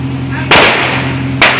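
Fireworks exploding during a street fire, with two loud close booming bursts about a second apart over a steady low mechanical hum.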